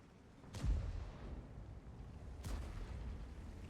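Two booming tank cannon shots in World of Tanks, played as a T-10, land about two seconds apart. Each is a sharp blast with a rumbling tail, fairly distant and low in level.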